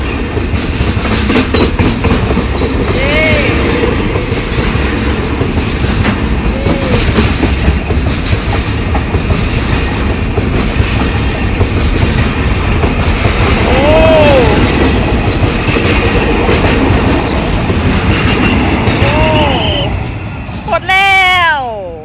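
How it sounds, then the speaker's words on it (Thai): A train rumbles past on the floating railway over the Pa Sak Jolasid Dam reservoir, with a continuous clatter of wheels, a few wheel squeals and a sharper squeal near the end, while voices talk over it. "นี่โชคดีมากเลยค่ะ วันนี้มาเจอรถไฟด้วย"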